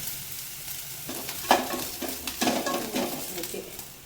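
Onions sauté in a pan with a steady sizzle, while spatula scrapes and clinks against the metal come in bursts from the middle onward, close and fairly loud, with no talking.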